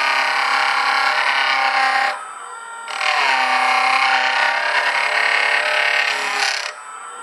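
Rough opal is trimmed on a Jooltool X sanding machine, producing a steady, bright grinding whine close by. The sound dips twice as the stone is lifted from the abrasive, then resumes.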